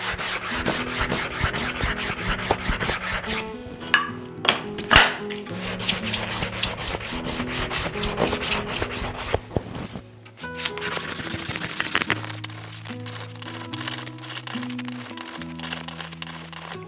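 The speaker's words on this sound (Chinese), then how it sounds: "我们砂纸包一个木块，这样子打磨也可以" Sandpaper wrapped around a wood block rubs back and forth over a wooden workpiece in quick, repeated scratchy strokes, close and fairly loud, over steady background music.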